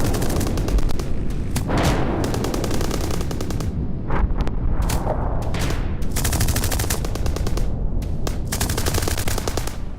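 A Russian Kamov Ka-52 attack helicopter fires its 30 mm cannon in combat in the Ukraine war, giving loud, sustained bursts of rapid automatic fire broken by brief gaps over ten seconds.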